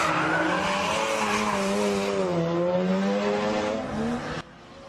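An RX-7 convertible drifts at low speed with long, loud tire squeal over a revving engine, the wavering screech rising and falling before cutting off abruptly near the end.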